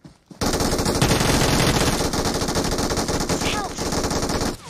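Rapid automatic gunfire in the mobile battle royale game PUBG Mobile rattles loud and continuous for several seconds, dense bursts of shots filling the whole stretch.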